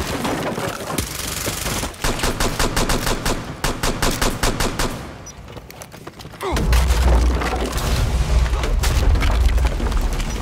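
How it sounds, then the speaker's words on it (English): Rapid bursts of gunfire crackle in quick succession in the video game Rainbow Six Siege, followed by heavy, rumbling explosions that continue loudly to the end. "there's just explosions everywhere near me"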